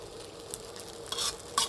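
Fried rice with snakeskin gourami fish being stir-fried in a pan, a soft steady sizzle under scraping stir strokes, with brighter bursts of frying hiss as the food is tossed.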